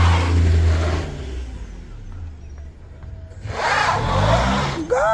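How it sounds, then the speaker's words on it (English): A rental car driving on a steep, difficult city road, its engine straining and revving loud and close, with a brief lull midway before the motor surges again near the end. "It's a rental car."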